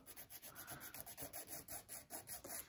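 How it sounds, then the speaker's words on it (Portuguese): Solid nail gel being filed at the tip with a nail file, a rapid run of short, even back-and-forth rasping strokes, close and steady, with no voices. "Lixa a ponta."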